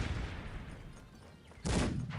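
Cannon fire from the strategy game Cossacks 3, a steady wash of battle noise that breaks into a loud, sharp blast near the end, with no talking.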